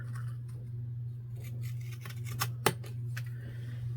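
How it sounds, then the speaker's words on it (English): Scissors trim the edge of paper during steampunk-themed papercraft embellishment work, giving several quiet, close snips and rustles over a low constant hum, with one sharper snip near the end. "So we'll just trim that off a little bit."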